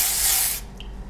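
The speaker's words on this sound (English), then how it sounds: "the way I do my dry shampoo is I spray my part first" A loud, close dry shampoo aerosol spray hisses steadily for about half a second, then cuts off, leaving faint room noise and a brief soft squeak.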